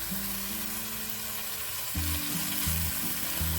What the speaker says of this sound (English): So we're just gonna brown this. We're gonna cook it until the pink is gone and a kind of brownish, grayish hamburger remains.